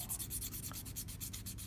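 Steady, continuous sanding of a leather edge with 600 grit abrasive, a close, rhythmic rubbing with regular back-and-forth strokes and no talking.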